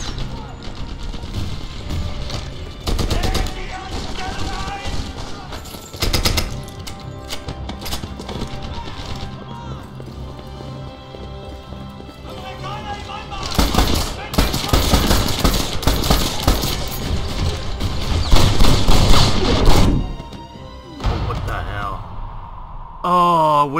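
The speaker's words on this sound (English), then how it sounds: "Because of the MG42." MG42 machine gun firing in the World War II shooter Medal of Honor Airborne, loud bursts of automatic fire breaking out repeatedly amid game sounds and music, the heaviest stretch near the end.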